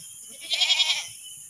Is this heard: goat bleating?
yes